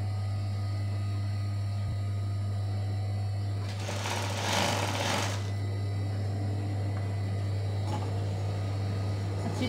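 Sewing machine stitching the heavy fabric of a large abaya, a steady close mechanical whir over a constant low hum, with a louder brief surge midway through.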